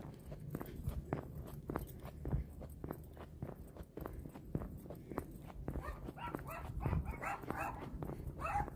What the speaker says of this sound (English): Hear a lot of dogs somewhere.